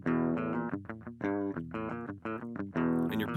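Electric guitar played through an audio interface into an amp simulator, a run of sustained, slightly distorted notes and chords that ring out loud and close, with no talking.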